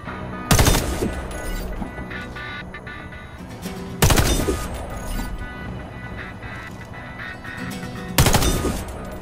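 Three loud, evenly spaced scoped-rifle shots ring out in the Warface video game, each a sharp crack followed by a ringing tail and fading echo, with game ambience between them.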